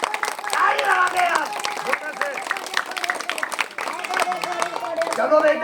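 Villagers clap during a rural magic show, a patter of quick hand claps running under loud, overlapping talk and chatter for several seconds.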